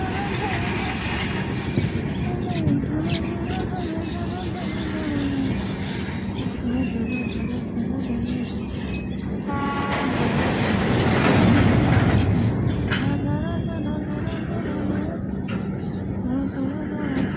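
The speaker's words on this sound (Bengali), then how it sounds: "অনেক অপেক্ষার পর শেষমেশ আমাদের ট্রেন টুন্ডলা পৌঁছালো।" Poorva Express 12303 pulling into Tundla Junction, its wheels giving off sustained high-pitched squeals over a steady rumble of rolling railcars, growing louder near the middle as the train passes close by.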